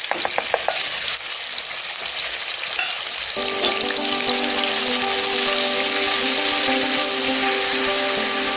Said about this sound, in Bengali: তো আমরা এই আদা, পেঁয়াজ এবং রসুনের এই পেস্টটা দিয়ে দিচ্ছি।